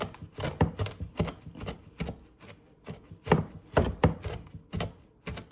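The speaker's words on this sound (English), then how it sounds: "it's chopping easier than usual today" Rapid knife chops on a cutting board while preparing food at home, a steady run of sharp, close, loud strikes with brief uneven pauses and no voices.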